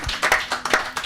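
A small audience claps briefly, a handful of quick, close, uneven hand claps lasting about a second.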